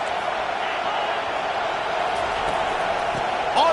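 A football stadium crowd at a Rocky Top versus Mississippi State game roars in a steady, dense wash of cheering, with a commentator speaking over it.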